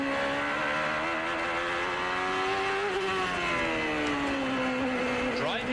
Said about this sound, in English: Listen to how easy Mansell treats this car.